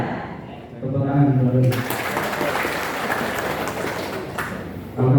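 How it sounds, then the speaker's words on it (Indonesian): Applause from an audience at a school gathering in Lamongan, a broad sustained wash of clapping that swells in and holds for several seconds, with a speaking voice before it and returning at the end. "Tepuk tangan."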